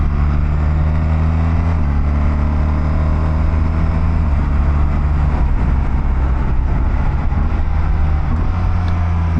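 A 2024 BMW R1300GS motorcycle is ridden at speed, giving a steady, loud engine drone with wind rush. There is a small shift in pitch early on, and it is heard up close without talking.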